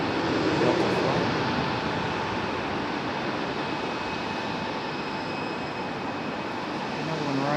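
A Delta jet airplane arrives at night at Raleigh-Durham airport, its engines producing a steady, loud, broadband roar that holds for the whole stretch with no talk over it.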